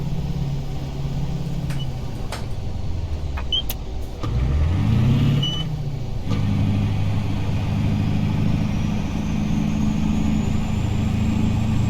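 A heavy truck in American Truck Simulator, part of the Zeemod pack, rolls along with a steady low engine drone that dips and shifts partway through, a few faint clicks above, no talking.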